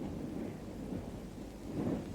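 A low, steady rumble of distant thunder rolls under soft, continuous rain on an evening, swelling slightly toward the end, with no voices.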